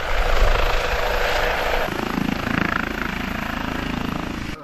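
An ADAC rescue helicopter at a fire brigade anniversary festival gives off a loud, steady rotor and turbine roar close by, holding for over four seconds before it cuts off abruptly.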